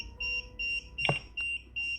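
An MK8 EMF meter reacting to radio frequencies emits a series of evenly spaced, steady electronic beeps, about five in a row, close and clear, with a brief click partway through.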